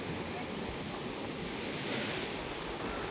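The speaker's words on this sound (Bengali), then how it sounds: "এই দেখো ভস ভস করে জল চলে আসছে" Rough sea surf at Tajpur beach during a new-moon spring tide, with water rushing in over the shore as a continuous, close, broadband roar of breaking waves and wind, steady throughout with no voices.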